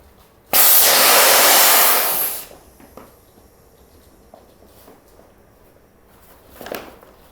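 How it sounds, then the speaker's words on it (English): A life jacket inflating from its gas cylinder, a sudden loud hissing rush lasting about two seconds that cuts off abruptly, followed by faint rustling and handling noises. "So now we're going to inflate another life jacket, but this time open to begin with"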